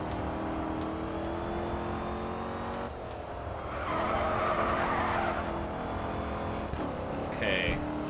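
A race car in the Grid 2 video game roars at steady high revs, its tyres skidding and squealing through a turn, loud and continuous with short gear-change dips.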